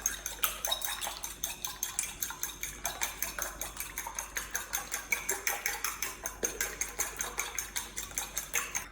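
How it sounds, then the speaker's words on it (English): Six eggs being whisked with salt and pepper in a bowl, with a rapid, steady rhythm of utensil strokes clicking against the bowl, close and continuous. "I'm gonna add salt and pepper to the mixture. Mix that all up."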